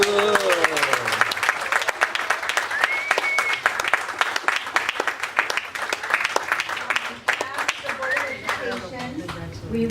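An audience at a school board meeting applauds a high school student for perfect attendance: continuous, dense clapping for the full stretch, with brief voices audible over it.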